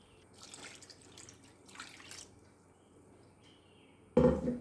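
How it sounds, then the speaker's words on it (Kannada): Water is poured into a pot of simmering curry made with a freshly ground paste. Faint dripping and stirring noises come first, then a sudden loud splash and gush of liquid near the end. "ಇನ್ನು ಸ್ವಲ್ಪ ನೀರು ಹಾಕಿಕೊಳ್ಳಬೇಕು."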